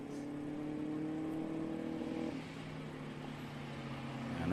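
A 1931 Type 51 vintage race car drives past at Watkins Glen, its engine a steady, fairly loud drone with a harmonic hum that dips briefly midway and then swells again toward the end.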